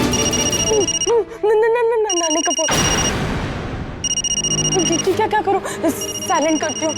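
A phone rings with an electronic ringtone in repeated bursts, loud and close, while a voice talks over and between the rings in a domestic TV drama scene.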